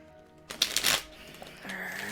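A deck of tarot cards is riffled and reshuffled in one quick, close, crisp burst of flapping card noise, followed by quieter handling.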